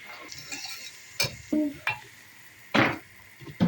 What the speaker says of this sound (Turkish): Doğradığımız soğanları ekliyoruz.